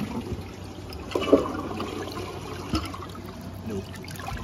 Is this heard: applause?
no